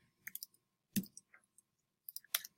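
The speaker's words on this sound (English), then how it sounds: "We're going to click on the timecode value at the bottom left" Computer mouse clicks on an editing timeline's timecode field: a few soft, quiet clicks spread across about two and a half seconds, close to the mic with no voices.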